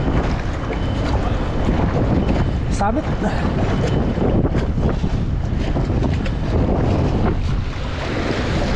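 Strong wind roars steadily across a microphone on a boat at sea out fishing, with water wash beneath and a single voice speaking briefly.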